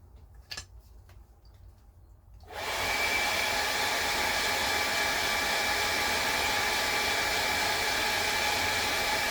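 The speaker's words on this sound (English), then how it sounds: "now I'm going to dry that real quick" Hair dryer blowing on glitter varnish painted on an oyster shell, switched on after a few faint ticks and then running as a loud, steady close-up whoosh with no speech.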